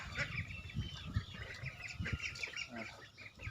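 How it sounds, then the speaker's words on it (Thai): A flock of one-month-old ducklings peeping and quacking softly in a busy, overlapping chatter, with some clucking fowl mixed in nearby. "พวกเป็ดอีเลี้ยงนะครับ อายุได้หนึ่งเดือนแล้ว"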